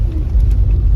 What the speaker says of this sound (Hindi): अभी जल्दी जल्दी गाड़ी चलाते हैं